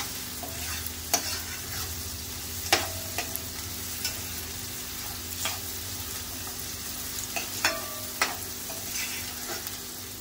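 Onion frying on medium gas until soft, a steady soft sizzle broken by sharp scrapes and taps of a spoon stirring in the pan, close and alone.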